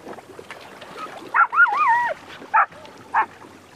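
A dog swimming near water buffaloes gives a few short yips and whimpering, whining cries, interspersed with brief sharp barks at close range.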